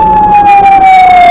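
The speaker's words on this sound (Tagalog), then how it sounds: "Yan, may ambulansya." A loud, close ambulance siren on the Maharlika Highway during morning traffic holds a steady, slowly falling wail that dominates the brief moment, with road noise beneath.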